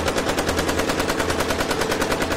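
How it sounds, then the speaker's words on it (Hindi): Rapid machine-gun fire rattles out as a sound effect in a Hindi audio comic featuring Super Commando Dhruv, a loud, evenly spaced burst of shots repeating continuously throughout. "धमाके की आवाज ने उस स्त्री का ध्यान भंग कर दिया"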